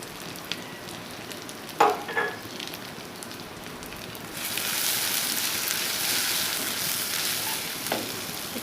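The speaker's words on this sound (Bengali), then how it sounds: "দেখুন মশলাটা ভাজা হয়ে আসছে" Ground spices fry in oil for chicken curry, with a steady close sizzle and a few clinks of stirring early on, after which the frying grows louder and fuller.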